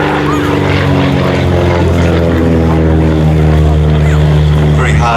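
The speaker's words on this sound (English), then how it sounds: "there's Paul giving us a wave on his last pass for today" An SF-260 propeller plane, the oldest still flying, makes a pass at an air festival, its loud, steady engine drone close and dominant, with a voice talking over it.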